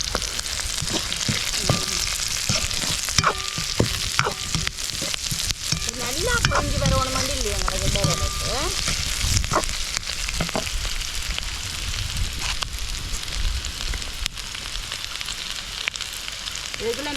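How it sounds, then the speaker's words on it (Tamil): Onions sauté in a hot pan and are stirred now and then, producing a continuous loud sizzle with occasional scraping clicks throughout. No one speaks. "வெங்காயம் வதங்கிட்டு வந்து வந்தடிக்கடி கிண்டி விட்டு கொண்டு தான் இருக்கிறேன்"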